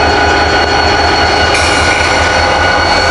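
Two Union Pacific diesel locomotives, units 1618 and 1611, sit idling on the tracks, giving a steady, loud mechanical rumble with a constant hum that holds unchanged throughout, no voices present.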